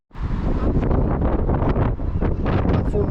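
Strong wind buffets the microphone in steady, roaring gusts, loud and close, with no voices, at a railway station platform on the Ayrshire coast of Scotland.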